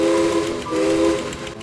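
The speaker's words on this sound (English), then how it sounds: "here comes Albert in the morning mail. He's a Pennsylvania Railroad E7 Atlantic" A Pennsylvania Railroad E7 Atlantic steam locomotive sounds a loud, close whistle in two sustained blasts, the second following a brief dip, over a low rumbling train background.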